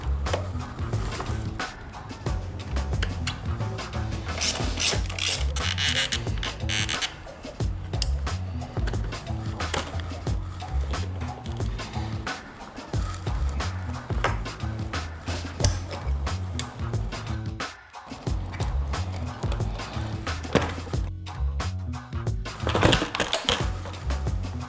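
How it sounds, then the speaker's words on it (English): Bolts and connectors being worked loose from the airbox on a Honda Grom motorcycle, a steady run of close metallic clicks, taps and rattles of tools and plastic parts with no talk. "So next up we need to remove this airbox."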